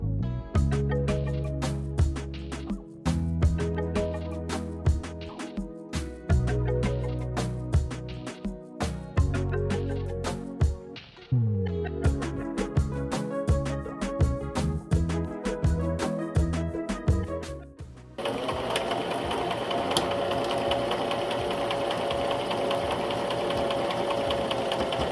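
A sewing machine stitches a pillowcase in quick repeated bursts of running stitches with short pauses between, close and loud, then gives way to a steady broadband hum near the end.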